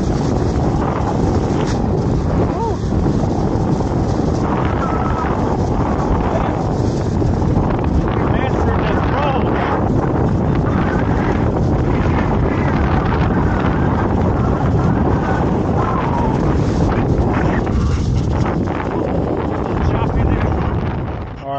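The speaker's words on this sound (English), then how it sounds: "it's a little breezy out" Strong, steady wind roars and buffets the microphone outdoors during an electric unicycle trail ride, loud and unbroken for about twenty seconds.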